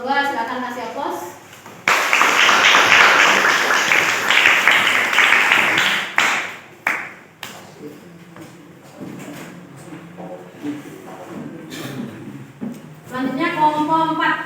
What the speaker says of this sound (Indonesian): Terima kasih untuk kelompok 2, silakan kasih aplaus.